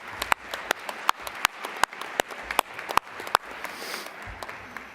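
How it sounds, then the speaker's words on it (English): A conference audience claps, a round of applause with distinct sharp individual claps at a fairly steady rhythm over a softer clapping wash, fading toward the end. "So how about we give a big round of applause to Sarek for pulling us together and helping"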